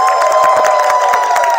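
Audience at a leadership summit session clapping together with some cheering, a loud, steady crowd sound filling the short moment at close range.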